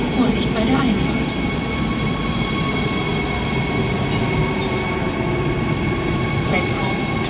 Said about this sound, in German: Einfahrt des Ersatzzuges für EN 345 von Stockholm